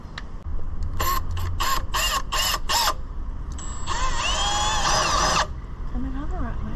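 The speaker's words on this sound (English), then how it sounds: "that's the little hole we'll be drilling." A power drill bores a small hole during a camper van kitchen renovation while the water tank and kitchen tap are being fitted. Six short, sharp bursts come first, followed by one longer, steady whining run, all close and loud.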